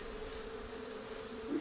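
Steady, close hum of honeybees buzzing around an opened hive during an inspection, a dense continuous drone with a slight swell near the end.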